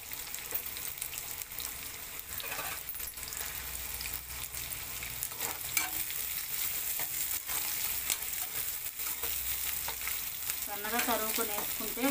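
Sliced onions, green chillies and curry leaves frying in hot oil for a fish curry, a steady close sizzle with occasional stirring scrapes through to the end.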